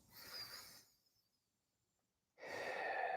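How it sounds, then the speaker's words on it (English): Two slow, soft nasal breaths during a stretching session, a hissing draw of air followed by a pause of near silence and then another long breath, close to the mic. "Breathing in fully through my nose."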